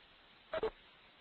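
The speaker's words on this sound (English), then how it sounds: "I think you have to press *7 on your phone to unmute it." Two brief electronic keypad tones sound in quick succession as star and seven are pressed on a phone dialed into a conference call, faint against a quiet line.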